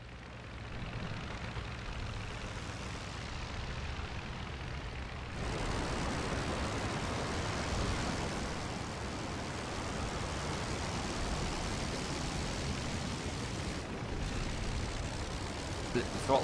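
A Sopwith Pup's rotary engine drones in the World War I flight sim Rise of Flight, a continuous loud roar that jumps up in intensity partway through as the throttle changes and then holds steady.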